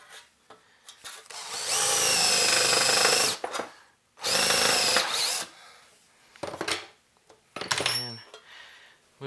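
A cordless power drill drills holes in wood, whining loudly in two long sustained runs, then a few short bursts, with clicks and brief clatter between them, close by.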